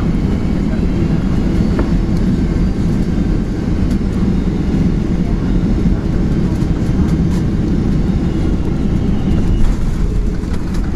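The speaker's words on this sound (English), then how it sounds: "those are planes at Hickam Air Force Base." Aircraft engines at Hickam Air Force Base roar steadily for the whole stretch, a loud, continuous low rumble with no clear break or pass-by.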